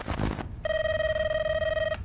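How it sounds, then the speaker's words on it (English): A telephone in the video game In Heat Lustful Nights gives one steady electronic ring, loud and sustained for just over a second, following a burst of game noise. "We got a phone call."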